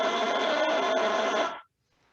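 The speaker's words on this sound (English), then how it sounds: "So without the bassoon, it sounds like this." A bare bassoon reed played without the instrument gives a buzzy, raspy squawk held for about a second and a half, close and alone, then cuts off.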